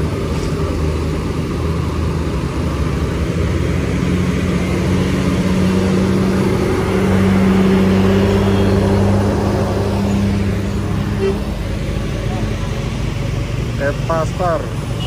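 A Marpaung / Iena Wisata bus passes on the steep Sitinjau Lauik mountain road, its heavy engine droning loud and steady throughout, swelling as it passes mid-way, with faint voices in the background.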